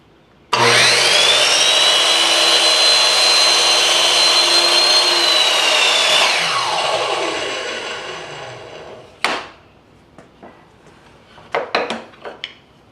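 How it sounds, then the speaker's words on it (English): A power saw spins up and crosscuts cherry wood pieces for a miniature table in one long, loud, steady cut of about six seconds, then winds down, followed by a few sharp knocks and clatters of wood being handled. "now I'm going to go ahead and cross cut both these pieces to that"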